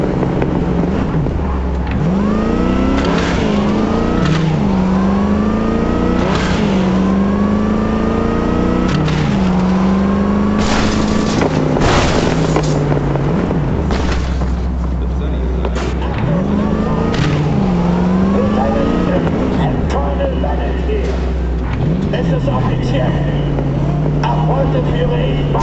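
Car driving through Dogtown in the video game Cyberpunk 2077 Phantom Liberty, a steady engine drone with repeated rising revs and whooshing shifts, loud and continuous, with talking over it.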